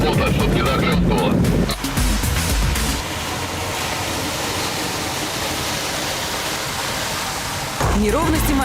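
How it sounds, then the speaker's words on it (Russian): A Suzuki Jimny pushes through deep water, a bow wave rushing and splashing ahead of the hood in a loud, continuous wash, with a heavier surge at the start and again near the end. "Старайся гнать волну впереди капота, чтобы не захлестывало."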